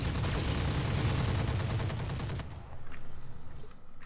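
Weapons fire in a BattleTech mech video game, with a dense roaring volley of autocannon and other guns for over two seconds, then abruptly cut to lighter pulsing mechanical rumble and a few scattered hits.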